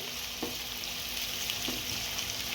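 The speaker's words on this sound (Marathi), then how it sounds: "कांदा लाल होईस्तवर आपल्याला परतून घ्यायचा आहे" Onions for spicy mutton sukka sizzle and fry steadily in a pan, a continuous close crackling hiss with a couple of soft stirring scrapes.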